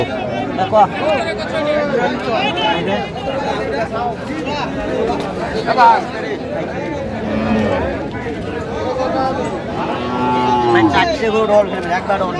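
Several cattle moo, long and drawn out, over a constant crowd murmur and nearby voices at a cattle market in Dhaka.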